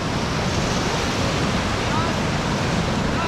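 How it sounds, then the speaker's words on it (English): Class 4 whitewater rapids roar during a half-day rafting trip in Ecuador, a loud, dense, unbroken rush of churning water close to the microphone. "Level 4 rapids, let's give her."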